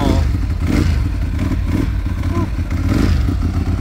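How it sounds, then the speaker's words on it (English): A 2004 Ducati 998S Final Edition motorcycle idles loudly up close through a full Termignoni racing exhaust, a deep, steady, bassy rumble with slight rhythmic pulsing throughout. "What you're hearing is the symphony from a beautiful full Termignoni racing exhaust system."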